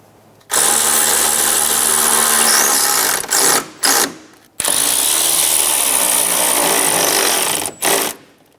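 A power tool, likely an impact driver, runs in loud, close bursts as it snugs down the mounting bolts of a dual radiator and condenser fan assembly on a 2007-2012 Nissan Altima, pausing briefly between pulls.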